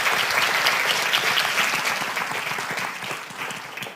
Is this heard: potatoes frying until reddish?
no